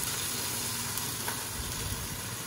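Chicken and caramelizing onions frying in a home pan for a French onion chicken dish, a steady close sizzle and crackle of hot oil running throughout without talk.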